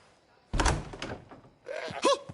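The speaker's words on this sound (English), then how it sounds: "Open this door or I'll kick it in!" A heavy wooden door is kicked in inside the game Assassin's Creed Odyssey, giving one loud thudding impact with a short crash, then a brief gasp-like voice after a pause.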